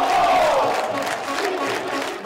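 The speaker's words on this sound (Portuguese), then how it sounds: "A torcida se levanta e se agita" A football stadium crowd at a Pernambuco state championship match between Central and Santa Cruz rises in a loud, sustained roar of cheering and shouting, with a whistle-like tone sliding down early on.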